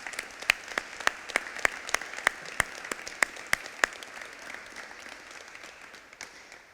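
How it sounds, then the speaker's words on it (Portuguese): A church congregation at a Thursday service claps in unison, sharp rhythmic beats roughly every third of a second that fade into looser, softer applause and crowd murmur toward the end. "Salva de palmas para Jesus."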